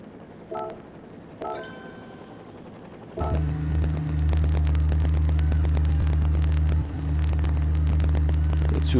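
Two Porsche race cars in the Rallycross GT video game start with a couple of short engine blips, then rev into a loud, sustained droning roar with a brief dip partway through.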